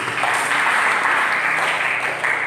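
A church congregation at a worship service applauds in a short, even burst of clapping.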